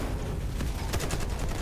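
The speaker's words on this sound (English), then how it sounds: "I'm just shooting out a bunch of rocks right now." Gunshots in a video game, aimed at rocks, ring out as a rapid series of close cracks in the second half over a constant rumbling background.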